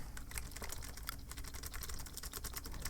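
Sticky arrow keys on a spill-damaged Razer keyboard are pressed, making rapid dull membrane-like clacks in a steady, busy stream close up, with no voice.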